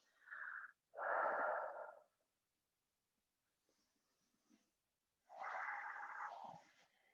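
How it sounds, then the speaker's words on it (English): Slow, deep breaths during a gentle yoga seated forward fold, two long exhales close together, then a pause with faint rustling and one more drawn-out breath, all close and soft with no talking. "So take some deep breaths here"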